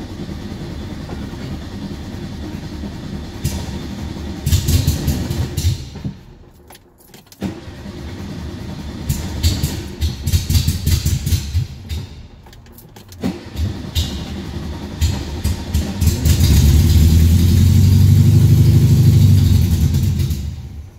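A 1974 Volkswagen Super Beetle engine runs rough and struggles to idle, loud and close with uneven surging, dips that nearly stall, and a stronger rev near the end.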